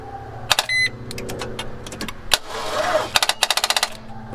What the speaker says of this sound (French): Je fais une tentative de démarrage sans le booster.